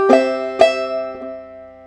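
A short measure of Snowdrop on clawhammer banjo: two bright struck strums, then a softer note, all left ringing and fading out up close.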